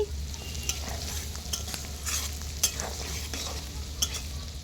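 Crushed garlic is stirred through hot oil in a pan for garlic pickle, giving a steady close sizzle with scattered scraping clicks of the spoon, alone with no voices.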